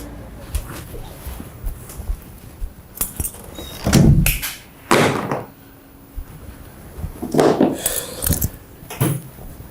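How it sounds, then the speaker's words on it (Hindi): A door in an apartment building swings open with creaks, knocks and bangs spread across the stretch, loud and close, with some voice activity between the bursts. "ये दरवाज़ा किसी हॉरर मूवी से उधार लिया है?"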